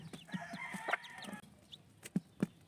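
A broody hen with newly hatched chicks gives soft low clucks while the chicks peep in thin, bright chirps, close and fairly quiet, with no talking.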